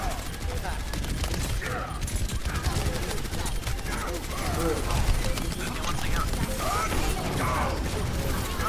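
Turrets firing in the video game Overwatch: a dense, continuous clatter of rapid mechanical gunfire that runs the whole time, with a player talking over it.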